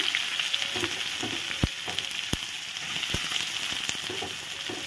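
Chopped onion fries in hot oil with black cumin seeds and green chilies as the base for a potato filling. A steady close sizzle and crackle runs throughout, broken by a few sharp taps and scrapes of stirring.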